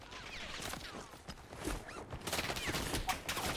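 Video game gunfire in a chaotic firefight, rapid bursts of fairly faint shots and mechanical clatter layered over each other, building slightly toward the end.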